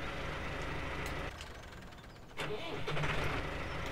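A Massey Ferguson 300 Series tractor engine from a video game mod rumbles steadily, dips briefly and then picks up again into a louder idle.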